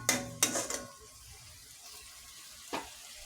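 Spices frying in a pan as a spoon stirs them, with a couple of sharp metallic clinks at the start, then a soft low sizzle and one more scrape near the end.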